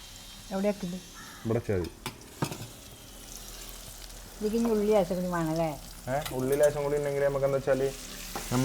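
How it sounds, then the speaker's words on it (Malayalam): Dosa batter hisses softly on a hot pan, a faint, continuous sizzle running underneath a person talking at length in the foreground. "ഞാൻ പഠിപ്പിച്ചു തരാം എങ്ങനെയാണ് ദോശ ചൂടേണ്ടത്"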